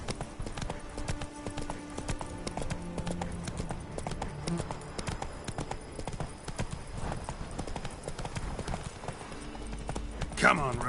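Roach, a horse in the Witcher 3 video game, trotting with a steady rhythmic clip-clop of hooves throughout, under talk and game sounds.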